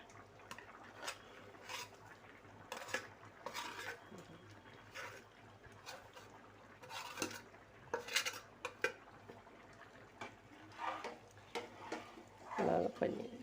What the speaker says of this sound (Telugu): పన్నీర్ వేస్తున్నాను.